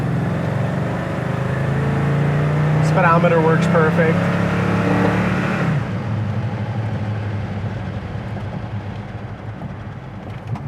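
A 1972 Chevrolet Monte Carlo warms up with a steady, low, rumbling idle that drops and settles partway through, while people talk close by over the engine.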